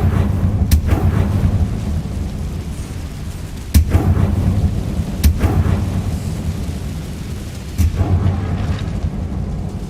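Sharp blasting booms from a Confringo curse in Hogwarts Legacy punctuate a steady rushing ambient bed, with several distinct loud impacts spaced a few seconds apart.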